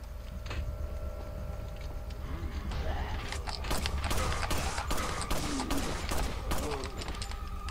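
Pistol gunfire in Resident Evil 4: sharp shots crack out in a quick irregular series over a constant low game background, growing denser toward the end.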